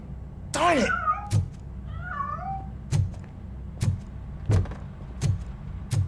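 A cat meows in the Robocop Rogue City video game, a couple of short wavering calls heard near and fairly clear, followed by a series of dull, evenly spaced thuds.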